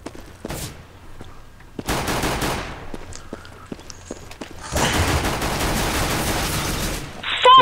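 Gunfire in Counter-Strike: Global Offensive, with scattered single shots followed by a sustained loud burst of automatic fire, loud and close.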